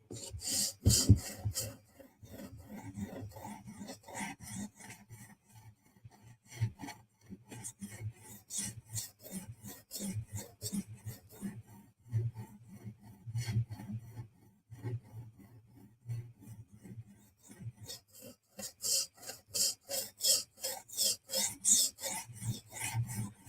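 A Benchmade 940 knife blade is worked on a TSProf Kadet guided sharpener, giving repeated close rasping strokes of abrasive on steel in steady bursts with brief pauses, no talking.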